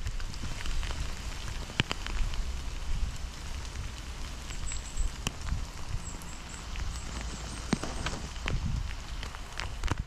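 Rain falls steadily outdoors onto a Montane Flux jacket with a Pertex shell, a dense close patter with occasional sharper drops and rustles.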